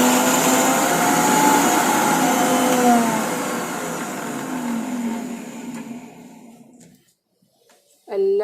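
A mixer grinder whirs steadily as it grinds herbs dry, without water, for homemade hair oil. The loud motor whine runs for about seven seconds, sags and cuts off, and then a brief voice-like sound follows at the end.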